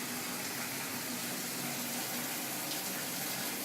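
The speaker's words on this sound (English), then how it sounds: "press the fill button so that we can rinse out any acid" A commercial dishwasher tank fills with water after descaling, producing a steady, continuous rushing hiss of incoming water, close and even throughout, with no talk.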